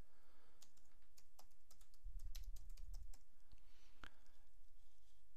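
Bursts of typing on a computer keyboard, quiet and close, with irregular clusters of key clicks and short pauses between them.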